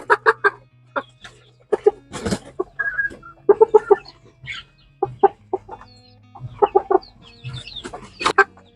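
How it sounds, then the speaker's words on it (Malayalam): Two roosters squaring off in a fight at a poultry farm, giving sharp, close clucks and squawks in irregular bursts, interrupted by brief flurries of scuffling. "ഇവിടെ രണ്ടാൾക്കാർ മരണ തല്ലൂടലാട്ടോ അതിൽ ആര് ജയിക്കുന്നുള്ള ആ ഒരു ഇതിലാട്ടോ നിൽക്കുന്നത് നല്ലതുപോലെ പൂവൻ കോഴികളാന്ന് തോന്നുന്നുണ്ട്"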